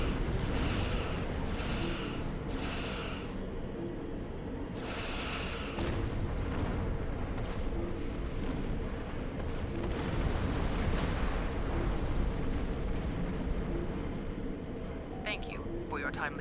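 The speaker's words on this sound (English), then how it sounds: "that heavy plasma torpedo" Heavy plasma torpedo blasts in the space combat game Star Trek Online: several deep booming bursts cluster early, then lighter impacts follow over a steady rumbling backdrop, with a voice speaking throughout.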